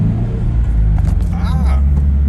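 Low road rumble of a 2022 Subaru BRZ joining a freeway, steady and heavy, with a voice speaking briefly over it.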